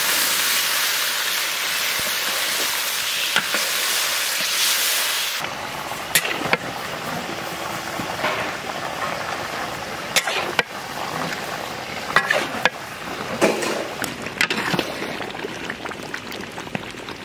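Water poured over fried mango in a hot pan in a village kitchen sets off a loud, steady hiss for several seconds. Quieter bubbling follows, with occasional clicks and knocks.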